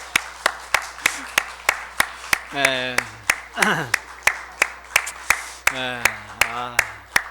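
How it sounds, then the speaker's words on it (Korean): A church congregation claps in a steady, even rhythm of sharp single claps during a Sunday worship service while a voice sings and speaks over it. "30초 동안 박수하겠습니다."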